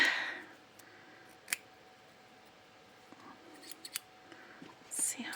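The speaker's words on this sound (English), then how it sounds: "It is slip and snip needle nose scissors." A few quiet, crisp snips of small needle-nose scissors, spaced apart with soft clicks in a hushed room.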